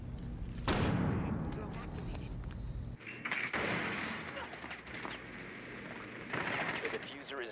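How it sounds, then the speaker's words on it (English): In Rainbow Six Siege, a stun grenade goes off as a sharp blast with a ringing aftermath, amid gunfire bursts and game voice lines, all loud and close. "stun grenade."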